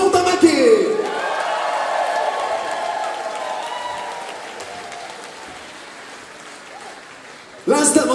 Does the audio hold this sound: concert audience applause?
yes